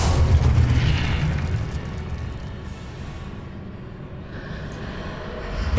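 Spell blasts in Hogwarts Legacy erupt as a loud booming burst, then a rolling, crackling rumble that fades and swells again toward the end.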